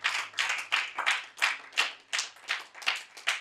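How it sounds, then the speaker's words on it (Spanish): A church congregation claps in a strong, steady rhythm, each burst of hand claps rising and falling in regular pulses about three times per second, loud and close. "Dale un aplauso fuerte al Padre de padres."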